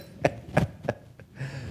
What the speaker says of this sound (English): The cough is a mere nothing.